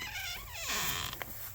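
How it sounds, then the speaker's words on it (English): A small door on a homemade teardrop camper creaks open in a drawn-out, wavering squeak that bends up and down in pitch, close and fairly loud, with a couple of light knocks near the end. "See if I can get this little door open."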